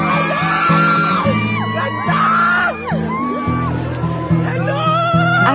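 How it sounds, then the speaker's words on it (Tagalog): At a Santa Cruzan parade in Sorsogon, a crowd shouts and cheers loudly with rising whoops and yells over a thumping, pulsing music beat. "Pakinggan nyo naman yung sigaw dito."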